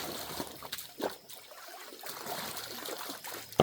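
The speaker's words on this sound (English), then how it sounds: "Fill it all the way to the top with water." Water trickles and pours into a bucket on level ground during gold prospecting, set up for classifying material; a steady close splashing stream runs throughout with small clunks and one sharp knock at the end.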